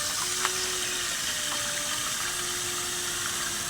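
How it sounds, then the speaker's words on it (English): Tap water steadily filling a 1 gallon plastic garden sprayer, a continuous hissing rush that stays even and fairly close throughout, with no talking. "And we're just gonna fill it up with water to 1 gallon."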